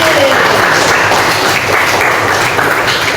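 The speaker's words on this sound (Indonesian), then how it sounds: "Tepuk tangan lagi" Students in a classroom Islamic jurisprudence lesson clap loudly and continuously, a close, dense, unbroken burst of hands.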